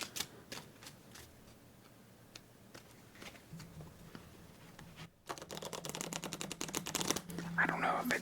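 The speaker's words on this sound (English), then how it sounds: "I don't know if you can tell when I try to square them back together. It kind of takes a while because the cards kind of stick to each other." Sticky playing cards being squared back into a deck during a solitaire game, giving quiet ticks early on, then a dense run of rapid, close-up crisp clicks and rustles in the second half, alone with no talk.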